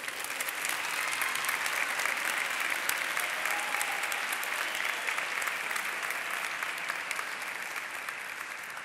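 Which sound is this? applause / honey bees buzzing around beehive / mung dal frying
applause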